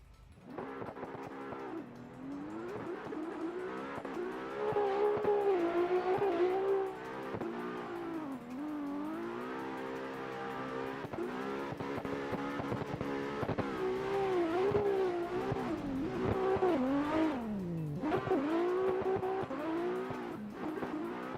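A virtual drift car in a Scottish Virtual Drift Series round laps the track in a video game, its engine droning loud and continuous, with revs rising and falling through corners, and no talk.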